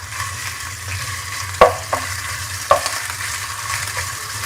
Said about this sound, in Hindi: लहसुन को हम 2-3 मिनट के लिए फ्राई कर लेंगे।